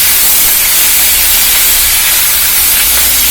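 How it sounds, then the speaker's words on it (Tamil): Curry leaves and ground chutney paste sizzle loudly in hot oil, a steady dense frying hiss that fills the clip without pause. "கருவேப்பிலை வதங்கும் போதே இந்த விழுது எல்லாம் போட்டு வதக்க"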